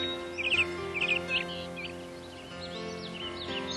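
Several birds chirp and trill in short bright bursts, most densely in the first second and a half, with softer calls continuing over a steady low background hum.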